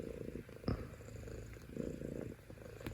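A kitten purrs close by in a steady, soft rumbling rhythm, with a brief louder bump partway through and no talking.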